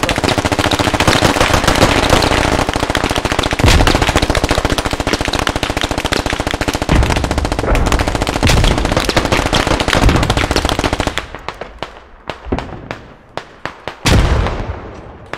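Gunfire in the tactical shooter game Squad: dense, continuous automatic bursts and shots hammering loudly for most of the stretch, then thinning into scattered single cracks near the end.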